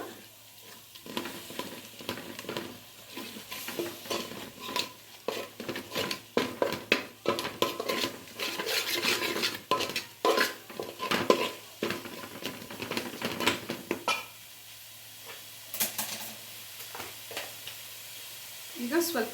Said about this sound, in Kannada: ಈ ರೀತಿ ಸ್ವಲ್ಪ ಎಣ್ಣೆನಲ್ಲೇ ಎಲ್ಲ ಮಸಾಲೆ ಹಾಕಿ ಸ್ವಲ್ಪ ನೀರು ಹಾಕಿ ಚೆನ್ನಾಗಿ ಈ ರೀತಿ ಮಿಕ್ಸ್ ಮಾಡ್ಕೊಂಬಿಡಿ